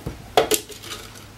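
Bulgur wheat being put into a bowl for vegetarian kibbeh, heard as a few sharp clinks and clatters of a utensil against the dish, close and loud, with short quiet gaps between hits.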